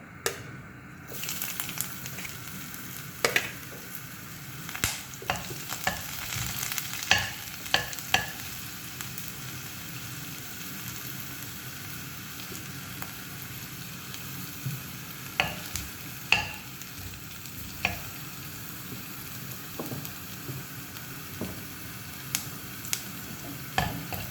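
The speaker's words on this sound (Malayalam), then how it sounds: "എണ്ണ ചൂടായി വരുമ്പോൾ അതിലേക്ക് നമ്മൾ അരിഞ്ഞു വെച്ചിരുന്ന് ഇഞ്ചി ഇട്ട് കൊടുക്കാം" Chopped ginger sizzles in hot oil in a pan for a Kerala drumstick theeyal, a soft steady frying hiss broken by occasional scraping stirs and small crackles, quiet and with no talking.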